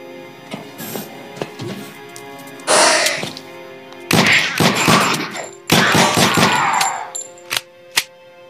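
Gunshots ring out in the Antarctica 88 video game: several sharp bursts of firing separated by quieter gaps, ending with two isolated single shots.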